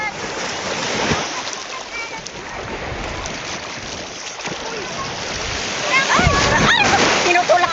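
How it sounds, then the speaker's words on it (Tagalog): Sea waves surging and splashing around swimmers at Ambay Beach in Subic, a continuous churning wash with heavier surges, close by, under excited voices talking and calling out. "Lakas ang akpas ng tubig."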